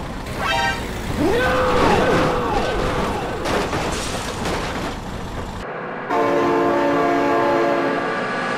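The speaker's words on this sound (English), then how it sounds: "Oh my god, train!" A train rolls past near a road crossing, its rumbling carriages loud and close, with a horn sounding in sustained blasts and a long, strong blast near the end.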